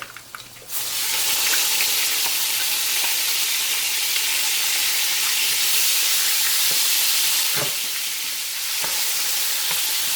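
Crushed onion frying in a pan over moderate heat gives a steady, loud sizzle that starts abruptly after a brief quiet moment and holds evenly, with a few faint clicks of utensils and no talking.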